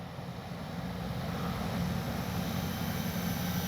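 An FMS P-47 Thunderbolt RC warbird, flaps down and gear up, passes low and slow with a steady, continuous engine drone that swells gently and holds fairly loud throughout, with no voices.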